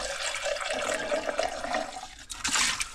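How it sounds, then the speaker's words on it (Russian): A drinking tube is rinsed under running tap water, a steady close splashing stream with a gurgling rush that picks up near the end. "Вот так вот я мою трубку"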